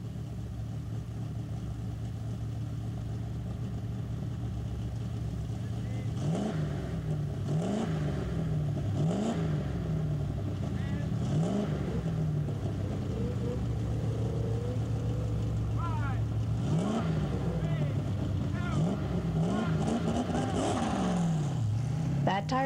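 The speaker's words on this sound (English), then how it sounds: "a Triumph TR7 with an experimental transplant of a V8 engine" A Triumph TR7 rally car with a transplanted V8 engine idles, then revs repeatedly in rising and falling surges, loud and close, ending in a long sustained roar, at a rally stage event.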